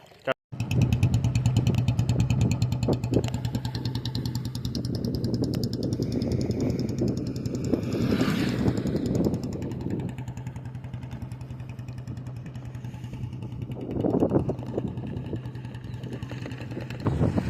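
A Royal Enfield Bullet motorcycle engine thumps steadily at close range for the whole stretch, with a couple of revving swells, while a person talks over it.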